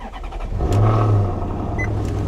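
A Maserati 4.7 V8, the engine also used in Ferraris, left sitting under a tree, revs up close in one rising surge, then settles into a rough, throaty idle.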